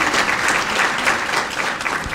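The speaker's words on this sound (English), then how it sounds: "Can we give him also a round of applause?" Audience at a memorial lecture and women-of-the-year awards ceremony giving a loud, sustained round of applause, dense and even clapping throughout.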